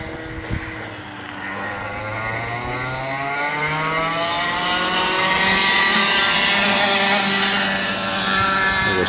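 A TAG kart races past on a kart track, its engine note rising as it closes in and then holding a loud, strained whine as it passes near, with no talking.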